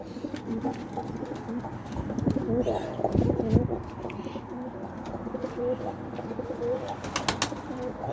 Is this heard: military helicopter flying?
no